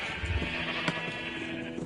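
A Minecraft sheep on a ranch gives one short wavering bleat near the start, followed by quieter game ambience.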